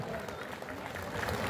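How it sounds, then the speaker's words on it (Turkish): A crowd at the traditional Tekirdağ highland festival applauds the mayor as he is invited onto the stage, a brief, dense burst of outdoor clapping with crowd noise mixed in. "Kocaman bir alkış rica ediyorum."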